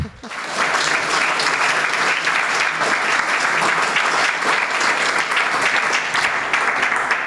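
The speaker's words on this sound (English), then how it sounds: "The slow clapping means the trauma is setting in." An audience at a spoken-word poetry reading claps steadily for about seven seconds, a broad, sustained patter of many hands at fairly even loudness with no talking over it.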